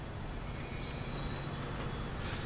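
Train wheels squeal in the rail simulation game Transport Fever. A steady high-pitched metallic whine runs over a constant low rumble of rolling stock for about two seconds, with no voices.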